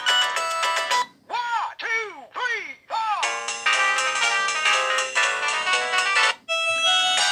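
A polyphonic ringtone melody played on a 2004 Samsung SGH C225 mobile phone, loud and close, with bright electronic tones in short repeated phrases and brief gaps, then sustained chords, with no talk over it.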